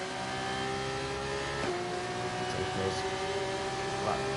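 An F2 race car on super soft tyres blasts around Monza in a racing video game, its engine a steady, loud high-pitched whine that holds flat with small pitch shifts as it runs wide open before braking.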